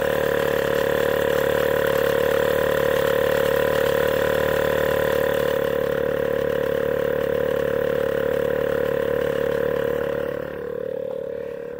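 A portable air compressor runs with a steady loud drone and hum while the car engine is off, holding constant until it eases and drops in pitch near the end.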